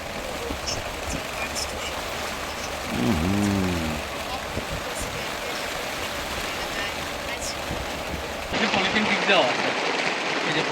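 Heavy rain falls on the coast in a steady, dense wash of noise that grows louder near the end, with a brief low cattle moo partway through.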